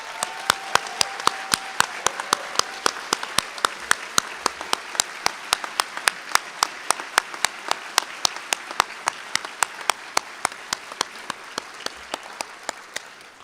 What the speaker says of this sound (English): Will you all please stand so we can give you a round of applause?